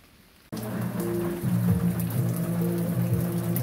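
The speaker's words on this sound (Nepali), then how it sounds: "पानी पनि परिरहेको छ" Steady rain patters down outdoors in hilly grazing country, a dense even hiss that starts abruptly after a quiet half second and continues loudly to the end, with a low steady hum beneath it.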